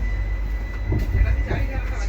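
Low rumble of the Netravati Express starting to roll out of Trivandrum Central, with steady mechanical hum and a faint tonal whine; some voices murmur nearby.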